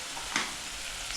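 Plantain and eggs sizzle steadily in a frying pan while being stirred, with one brief scrape of the spoon partway through, heard up close and without any talking.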